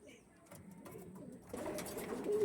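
Original Andhra pigeons give soft cooing that starts faint and grows louder and busier in the second half, near at hand, with a voice faintly under it.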